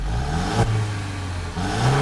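A 2015 Mercedes-Benz C300 4MATIC with a turbocharged 2-liter four-cylinder engine accelerating, its steady engine drone rising in pitch, with a brief shift-like dip partway through.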